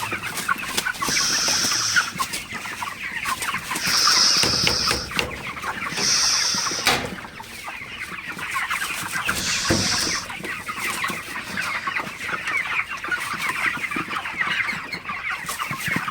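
A flock of broiler chickens, suffering in the heat, cluck steadily, a continuous close-up murmur of clucking with occasional louder squawks, no talking.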